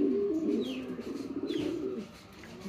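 A new white pigeon calls loudly and close up. Its rolling coos pulse in a series over about two seconds, then fade, with brief chirps above.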